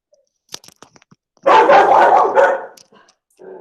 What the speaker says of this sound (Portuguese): A cachorrada tá nervosa.